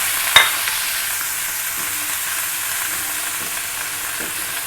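Cabbage for momo filling fries in a pan over a high gas flame, giving a steady, even sizzle throughout with a brief stir clatter near the start and no talk.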